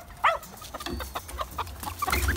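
A rooster clucks and squawks in short, scattered calls while being chased, fairly close, with rustling and background noise around it.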